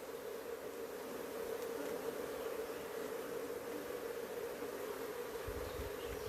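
A honeybee hive full of brood about to emerge gives off a steady, close droning hum, even and unbroken throughout with no talking.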